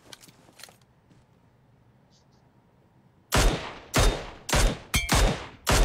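Gunfire in a video game shootout: a quiet stretch with faint clicks, then a string of loud, close bursts of rapid shots in uneven volleys, with a voice talking briefly in the background.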